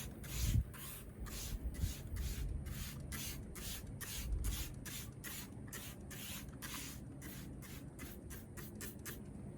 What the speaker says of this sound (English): we're going to come in and hit our wheel with our wheel cleaner